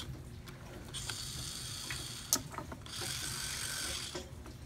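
A Trackmaster Hit Toys Rocky toy crane with a magnet runs its motorized mechanism, giving two sustained stretches of whirring, gear-like buzz with a brief sharp click between them, close and fairly quiet.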